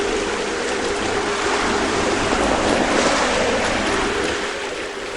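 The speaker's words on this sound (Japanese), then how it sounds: "これほど波が高く、" High ocean waves crash and surge around a tiny sailboat on a solo trans-Pacific crossing, a loud continuous roar of surf and rushing water mixed with wind, with no voices.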